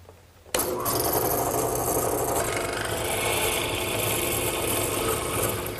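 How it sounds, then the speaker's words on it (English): A drill press driving a hollow mortise chisel down into a wooden top rail for a garden bench, a loud, steady grinding rasp that starts abruptly and runs continuously without pause. "as the drill press pushes down, the drill will start the hole and the chisel will square it up"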